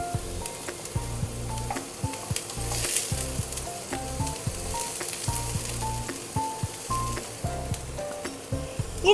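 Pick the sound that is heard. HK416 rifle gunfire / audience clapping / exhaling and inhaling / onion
onion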